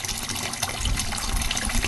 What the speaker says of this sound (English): And I'm going to keep putting some water in.